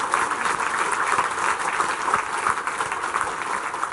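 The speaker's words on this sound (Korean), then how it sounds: "따뜻한 박수를 쳐드리겠습니다." Warm applause from a church congregation honoring newly appointed elders and deaconesses at a New Year service, a steady dense wash of clapping filling the hall alone at moderate loudness.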